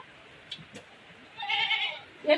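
A Black Bengal goat kid lets out a thin, wavering bleat after a couple of faint knocks, followed by the start of another cry at the very end.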